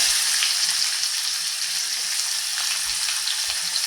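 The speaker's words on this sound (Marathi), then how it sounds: "यामध्ये घालते कढीपत्त्याची पाने त्याच्यानंतर एक बारीक चिरलेला कांदा" Chopped onion and curry leaves fry in a cumin and asafoetida tempering for rice, giving a steady, close, bright sizzle with no pauses and no talk.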